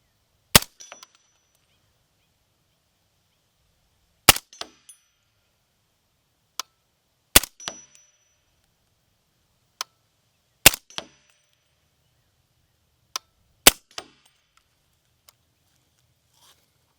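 Six sharp, well-spaced rifle shots from a 300 Blackout firing 220-grain subsonic rounds, each followed by a short metallic ring as the bullet strikes a swinging steel target, crisp and alone against near silence.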